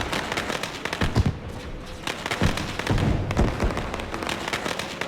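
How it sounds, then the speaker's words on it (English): Celebration fireworks after a race victory crackle and thump in a rapid irregular series, with a few louder booms standing out over constant outdoor background noise. "Pretty cool looking fireworks, man."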